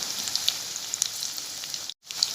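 Chicken pieces set into hot oil in a pan over fried onions for chicken biryani, giving a steady soft sizzle with faint crackles that cuts out briefly near the end.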